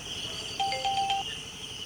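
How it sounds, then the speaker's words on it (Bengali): A mobile phone ringtone plays a short melodic electronic jingle over a steady high insect-like night hum, clear but moderate in level, with no speech. "নিশ্চয়ই মালতীর ফোন।"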